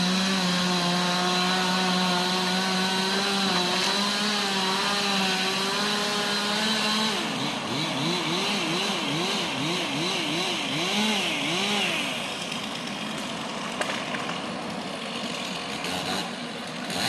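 A chainsaw runs continuously while trimming tree limbs during downtown tree removal, holding a steady idle before revving up and down in repeated surges; loud and close, with no talk.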